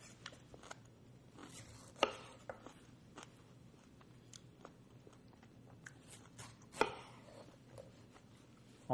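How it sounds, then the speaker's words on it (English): A knife chopping repeatedly on a cutting board, cutting out pineapple cores, irregular close taps with a few sharper, louder strikes against a quiet hum. "So you cut the cores out"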